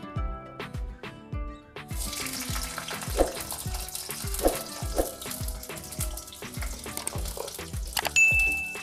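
Onion pieces sizzle and crackle in hot oil in a wok while cauliflower Manchurian is cooked, a steady close frying hiss that rises as they go in, with rhythmic background music underneath.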